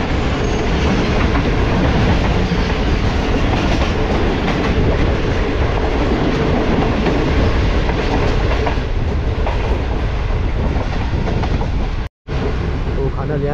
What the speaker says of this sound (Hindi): तो लाहौर कैंट से अभी ट्रेन निकली है